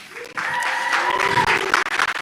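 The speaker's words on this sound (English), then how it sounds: "Just start clapping now." Clapping from a meetup audience, fairly loud and close, with a voice or tonal sound running through the first part before the claps thin into separate bursts near the end.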